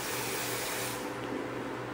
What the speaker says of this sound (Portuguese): Vamos passar o spray que acompanha o kit na área de impressão.